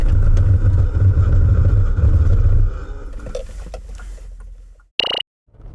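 A 2020 Bentley Bentayga V8 on all-season tires runs loud under engine and road roar, then brakes hard and the noise drops away, ending with a brief high tire squeal or chime as it stops.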